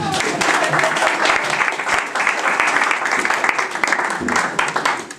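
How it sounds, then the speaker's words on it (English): Audience applause at a career-building workshop, loud sustained clapping from a room full of people for about five seconds, with brief murmurs of voices underneath. "Please clap for me."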